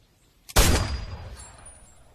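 A single loud gunshot cracks out in a film scene, sharp and close, with a booming tail that decays slowly over about a second and a half.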